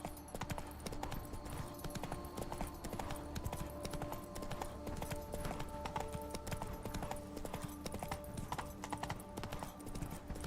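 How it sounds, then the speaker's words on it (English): Rapid galloping hoofbeats of a horse in The Witcher 3 video game, a steady driving clip-clop rhythm close and loud throughout, over a bed of game music with occasional faint voices. "Run, Roach."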